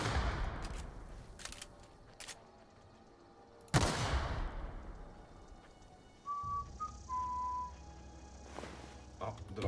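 Scattered gunshots in The Outer Worlds video game, quiet and spaced apart, with one sharper, louder blast among them over a low game background hum.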